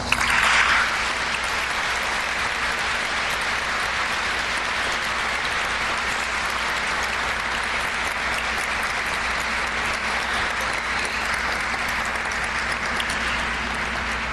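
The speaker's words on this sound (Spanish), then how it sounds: "para quien pido desde aquí un cálido aplauso" Sustained applause from a large audience, steady and even throughout, continuing without pause for well over ten seconds.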